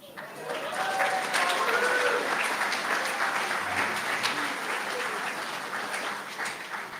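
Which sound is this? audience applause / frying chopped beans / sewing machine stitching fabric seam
audience applause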